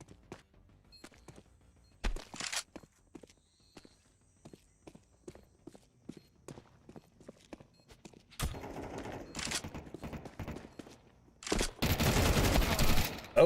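Counter Strike 2 gunfire exchange in a collegiate match, with scattered footsteps and clicks giving way to loud bursts of automatic fire near the end, while casters talk over the action.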